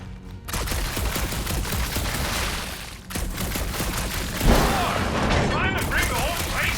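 Gunfire in Marvel's Guardians of the Galaxy, rapid bursts of shots and booms dense across the whole stretch, with a brief drop before heavy firing resumes and voices speaking over the action.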